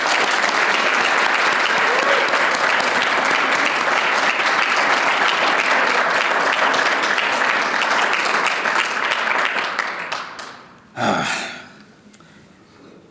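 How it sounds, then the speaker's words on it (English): Loud, dense applause fills a banquet hall at a law students association alumni dinner, sustained for about ten seconds before fading out, then a brief final swell of clapping and crowd noise. "Can we have one more round of applause for Kim Worthy, please?"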